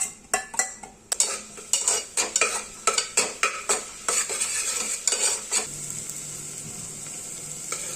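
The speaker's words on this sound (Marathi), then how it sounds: "परतून घ्यायचंय छान लसूण आणि मिरची।" Garlic and green chili paste is stirred in hot oil inside a pressure cooker, with a quick run of rhythmic scraping spoon strokes that give way to a steady close sizzle.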